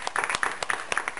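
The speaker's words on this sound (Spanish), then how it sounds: "Denle ese aplauso al Señor." A church congregation at a Sunday sermon in Broward claps in praise, giving applause to the Lord; a short burst of distinct, fairly close hand claps in quick uneven rhythm.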